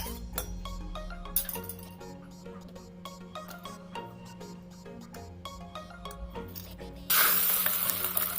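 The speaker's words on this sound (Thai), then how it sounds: "ใส่ไข่ที่เราปรุงไว้ลงไปทอดเลยค่ะ" Over light background music, a loud burst of sizzling hiss erupts near the end as seasoned beaten eggs for a Thai garlic chive omelet hit hot vegetable oil in a pan.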